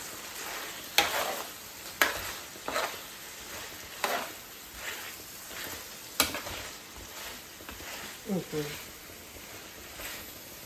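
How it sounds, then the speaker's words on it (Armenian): Red pepper stirred into a pan with soft sizzling and a few sharp utensil scrapes and taps against the pan, quiet and intermittent, with a person talking over it. "Մի քիչ կարմիր պղպեղ խառնում ենք"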